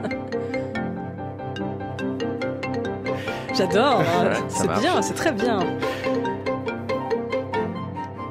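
A mobile phone ringtone melody plays inside a repetitive, minimalist orchestration with bright tuned tones and rising, falling figures. People talk over it.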